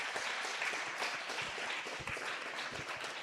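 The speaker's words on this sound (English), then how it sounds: "Please give a huge round of applause again." Audience applause fills a livestreamed event hall, a dense, steady wash of many hands clapping at even loudness throughout, with no voices over it.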